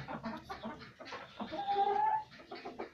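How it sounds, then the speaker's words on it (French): Silkie hens cluck softly and repeatedly up close, with one drawn-out, higher-pitched call in the middle. "les nouveaux arrivants, c'est deux petites poules soies"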